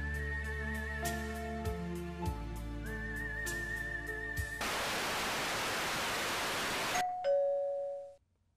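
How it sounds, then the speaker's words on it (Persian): An electronic doorbell chimes in a studio in a run of repeating tones, followed by a burst of loud static hiss and a final short ding. No one speaks. "زنگ در میزنن؟"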